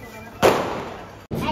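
A Diwali sutli bomb, a jute-rope-wrapped firecracker, goes off close by with one sharp, loud bang and a short rumbling tail. A second burst follows about a second later.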